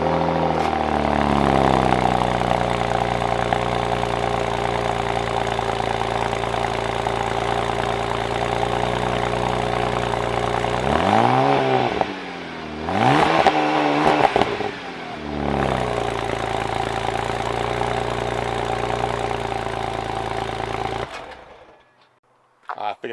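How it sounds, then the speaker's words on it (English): A 2012 BMW Z4 sDrive35is roadster's twin-turbo N54 engine idles with a steady low rumble, briefly revs up twice in the middle, settles back to idle, then shuts off near the end. "start the car up, of course. Let's get an audio of it here."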